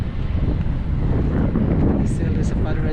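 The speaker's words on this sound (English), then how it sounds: "it's nice weather today and it's windy" Wind gusting steadily across the mic by a bay while crabbing, a constant loud broadband rumble throughout with a few brief brighter swishes near the end.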